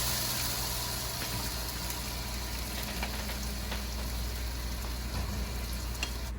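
Three whisked eggs fry in garlic-flavoured oil for vegetarian fried rice, giving a steady, close, even sizzle with a faint low hum beneath and no talking.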